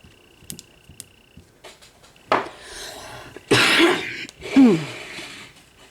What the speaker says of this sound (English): I may be coughing semi-often.